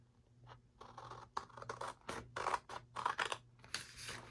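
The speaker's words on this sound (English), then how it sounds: "here I'll do this with the scissors" Paper being cut with scissors while a junk journal is assembled, a series of close, crisp snipping and scratching strokes in irregular bursts with short pauses between them.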